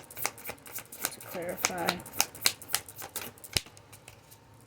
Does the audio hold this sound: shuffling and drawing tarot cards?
yes